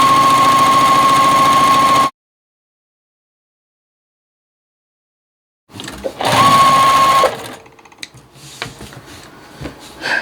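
A sewing machine stitches pieced quilt squares, running loud and close in a fast steady whir for about two seconds, then after a pause it starts again for another short run before fading into faint handling noises.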